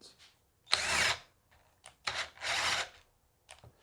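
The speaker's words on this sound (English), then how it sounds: "let's see if we can drill a hole with a 3/8 inch drill bit" A Raitool 12V cordless drill whirs in short bursts while drilling a hole with a 3/8 inch bit, two longer runs of high-pitched grinding with brief stops between, close by.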